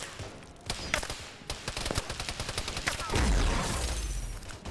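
Rapid bursts of sci-fi gunfire during a Halo team match between UNSC and Covenant forces, dense, repeated shots cracking close by, then a heavier rumbling blast, with faint voices beneath.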